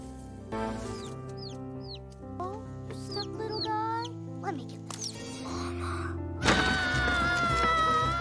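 Chickens cluck and squawk in scattered bursts while chasing a frightened boy across a farmyard, with busy tonal sounds underneath and a louder flurry near the end.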